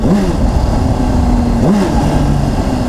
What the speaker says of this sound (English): So I'm putting my hand on the brake, my foot on the brake, downshifting,